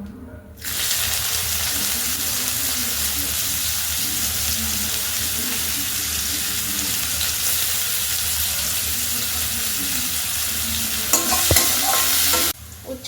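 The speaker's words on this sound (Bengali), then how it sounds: "এবার আমি উচ্ছেগুলো ভেজে নেবো" Bitter gourd pieces frying in hot oil for a Bengali shukto, a loud, continuous sizzle that crackles throughout and ends in a few clatters near the close, with no talk.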